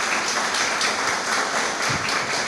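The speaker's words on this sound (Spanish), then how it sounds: "pedirles a todos los presentes un pequeño reconocimiento a través de un aplauso" An audience applauds at a road-safety forum, a steady, dense wash of many hands clapping that holds evenly from start to finish with no voices over it.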